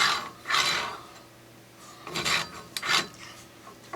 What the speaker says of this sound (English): just crank this back down